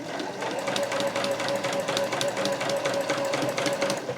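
A sewing machine stitches the seam of a tucked pouch, a steady close mechanical whir with a rapid needle rhythm running continuously without pause.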